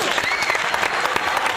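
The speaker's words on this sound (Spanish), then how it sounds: "recibamos con un fuerte aplauso al Diablo" Live studio audience applause greeting a guest introduced as the Devil on a Colombian TV talk show, a steady dense clapping across the whole stretch with some crowd noise mixed in.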